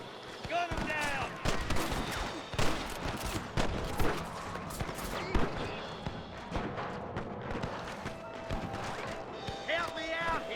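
Gunfire rings out against rustler guards in Red Dead Redemption Remastered, with repeated sharp shots scattered through a busy game soundscape, under shouted character voices and background music.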